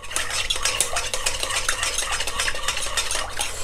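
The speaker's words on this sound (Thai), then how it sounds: "คนนะครับ" A shrimp and glass noodle mixture stirred in a pan with a metal utensil, giving rapid continuous scraping and clinking strokes close up over a light sizzle, with no talking.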